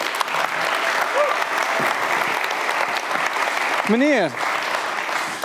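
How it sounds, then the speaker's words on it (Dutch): Audience applause at a creative-industry event, continuous clapping from a crowd with a brief spoken word and a short vocal exclamation near the end over it. "Geef een applaus aan Kevin de Randami."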